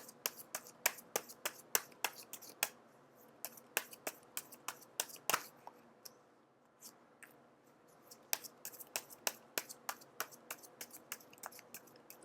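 Tarot cards being shuffled and drawn, heard as close, crisp card snaps and riffles in an irregular rapid rhythm, with a short quieter pause midway and no talking.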